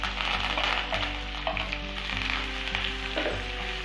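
Onions and curry leaves fry in oil with mustard seeds and cumin, giving a steady, close sizzle and crackle with light stirring and no voices.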